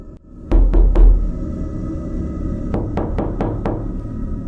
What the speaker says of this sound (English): 3 slow, deliberate knocks at my door